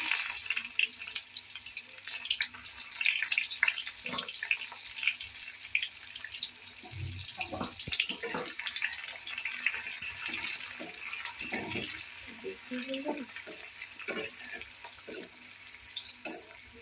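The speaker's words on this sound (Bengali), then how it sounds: "এবার এই তেলেই দিয়ে দিচ্ছি গোটা গরম মশলা, দুটো তেজপাতা, দারচিনি, এলাচ, একটু সেন্ট ছাড়লেই পেঁয়াজ কুচি" Whole garam masala, two bay leaves, cinnamon, cardamom and chopped onion frying in hot oil, a faint steady sizzle with scattered crackles and occasional utensil clinks throughout.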